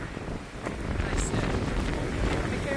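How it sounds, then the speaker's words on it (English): Wind buffets the microphone in a steady, rumbling rush, loud and close, on the Cambrian Way trail near Devil's Bridge in Wales. "Just a bit windy."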